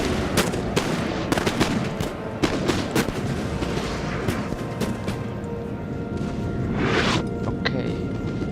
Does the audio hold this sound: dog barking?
no